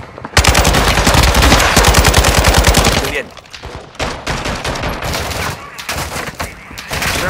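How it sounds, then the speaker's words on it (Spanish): Loud, rapid automatic gunfire rips through a Warzone 2.0 DMZ match: a sustained machine-gun burst for a few seconds, then scattered shots and noisy action continuing. "¡Me están disparando!"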